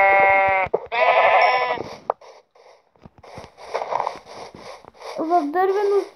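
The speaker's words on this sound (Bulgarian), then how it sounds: "Овца" Blocky sheep in Minecraft Pocket Edition bleat in a village while a house burns, with loud, drawn-out harmonic baas, brief pauses and short choppy game noises, then another rising bleat near the end.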